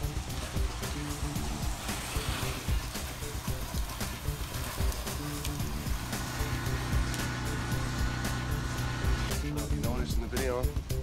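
A high-pressure washer sprays a house during soft-wash and power-wash cleaning, giving off a steady, dense hiss that holds for the whole stretch, with fluctuating spatter and background noise over it.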